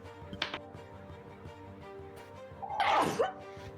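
A single sharp sneeze bursts out close by, with faint background murmur and game-like sounds around it.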